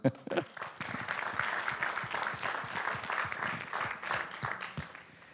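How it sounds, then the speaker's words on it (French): Applause from a crowd at an awards forum in Provence, steady clapping that swells at first and continues evenly, with a few voices mixed in. "Applaudissez-vous."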